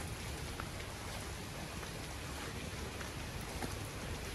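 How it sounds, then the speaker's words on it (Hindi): Heavy monsoon rain pours down in a steady, dense hiss, loud and constant with no voices over it. "बारिश बहुत तेज हो गई"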